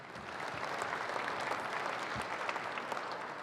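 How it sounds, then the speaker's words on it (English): Steady round of applause from a banquet audience at a dirt late model racing series event, moderately distant and continuous with no speech over it. "Give them all a big round of applause."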